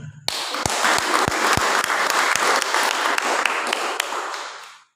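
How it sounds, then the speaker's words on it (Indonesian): Applause breaks out at a church service, a dense, steady wash of many hands with a few sharp individual claps on top, sustained for several seconds before fading out at the end. "Tepuk tangan."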